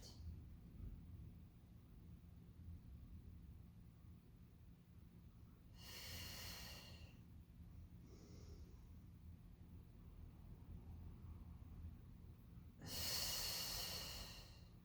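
Two strong breaths during a Pilates mat class: a long exhale around the middle and a louder, forceful breath near the end, both close and airy, over a quiet room hum.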